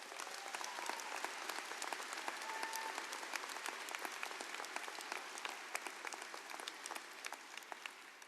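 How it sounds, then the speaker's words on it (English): A high school graduating class of 2021 gives a steady round of applause, sustained dense clapping from a large crowd in an event space, holding at an even level throughout. "Give yourselves a round of applause."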